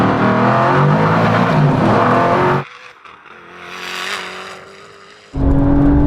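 Sports cars in a drag race from a rolling 50 in second gear: a loud, close engine roar at full acceleration drops away to a quieter, distant whine, then surges back to full volume.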